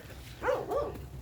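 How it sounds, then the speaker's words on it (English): A neighbor's dog gives two sharp barks in quick succession in a garden, over a low background hum, fairly close and moderately loud. "that is my neighbor's dog that always barks at me."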